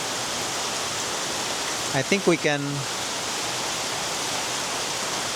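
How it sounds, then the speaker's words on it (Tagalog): Steady rain hisses as a dense, even wash of noise, with a brief spoken phrase rising over it partway through. "It's raining."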